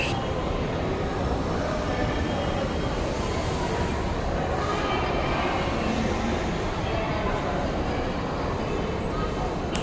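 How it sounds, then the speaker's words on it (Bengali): A Kolkata metro train running under the Ganges river gives a steady, loud rumbling roar throughout, with faint squeals over it and voices talking underneath. "গঙ্গার তলা দিয়ে যে মেট্রোটা চলে"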